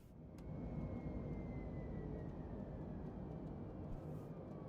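An Airbus A320neo airliner climbs in Microsoft Flight Simulator 2020, its engines making a steady, fairly faint broadband roar with a thin whine drifting slowly lower.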